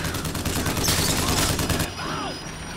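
Heavy automatic gunfire from a crank gun in the video game Bioshock Infinite, a loud burst of rapid shots that cuts off abruptly near the end, leaving quieter game ambience behind.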